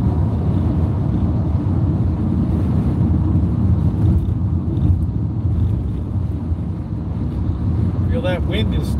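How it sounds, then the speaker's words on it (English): Steady wind roars and buffets a microphone outdoors in California, a dense low rumble that fills the whole stretch loud and unbroken, with faint sounds near the end. "That wind is starting up."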